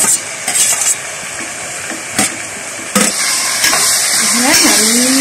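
Carrots and beans sautéing in a pan with onion and tomato for a vegetable biryani: a steady close sizzle with scattered spoon-stir scrapes and clinks throughout.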